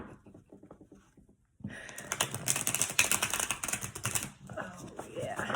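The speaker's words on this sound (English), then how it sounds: "I really already shuffled them, but let's just do it again." Oracle cards being shuffled by hand, a dense rapid flutter and riffle of card stock that starts abruptly after a quiet pause and runs steadily to the end, close and fairly loud.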